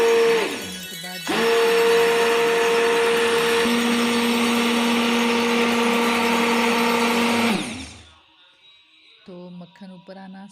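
An electric blender beats cream for homemade desi ghee butter, its motor whirring loudly and steadily for about six seconds after a short stop, then cutting off, with faint clinks following.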